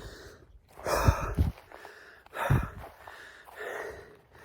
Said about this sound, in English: And some deep breathing.